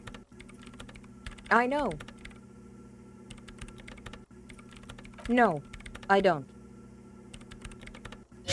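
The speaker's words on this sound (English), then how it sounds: "her hands typing hundreds of commands into the machine" Typing on a computer keyboard in the video game Disco Elysium, a steady soft clatter of keys running throughout, with a character's voice speaking briefly over it several times.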